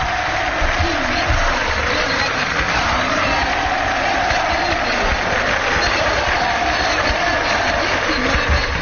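Large stadium crowd at a Paraguayan football match applauding as Cerro player Nani leaves the pitch, a dense, loud, continuous roar and clapping over the whole stretch, with a commentator's voice faintly beneath.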